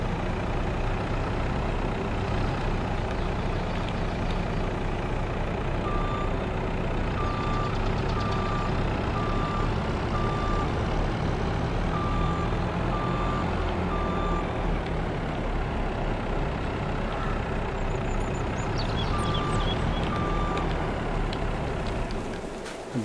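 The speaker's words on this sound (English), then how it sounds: "Back the truck up a little bit more again." A reversing truck sounds its repeated backup beeps in evenly spaced bursts, with a low engine rumble running steadily underneath at moderate distance and no talk.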